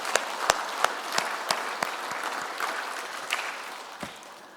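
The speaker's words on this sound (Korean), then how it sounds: "우리 영광의 박수를 한번 올리시도록 하겠습니다" A church congregation applauds, a thin spread of clapping with a few sharper, louder claps standing out early on, fairly distant and fading toward the end, with no talk.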